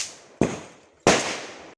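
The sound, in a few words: string of firecrackers bursting for Deepavali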